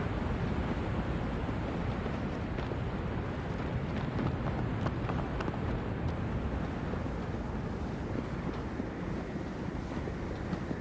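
Waterfall in the Shadow of the Colossus video game, a steady broadband rushing roar that runs continuously with no voices.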